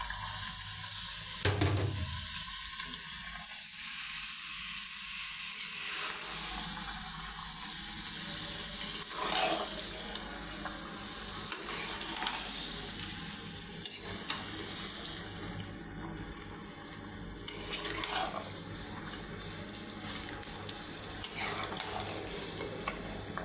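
Washed beef pieces added to a fried spice paste sizzle in the pot, with wet stirring and scraping strokes that come and go over a continuous frying hiss. Nobody speaks.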